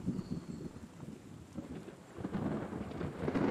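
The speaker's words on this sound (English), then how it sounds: "Well, it is raining." Steady rain pours in a farming video game, with low rolling thunder rumbling continuously underneath, fairly loud and without speech.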